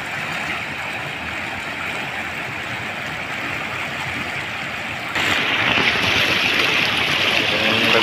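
Broad, steady roar of rushing floodwater over rice fields in Naujan, Oriental Mindoro, close and loud, growing slightly stronger partway through.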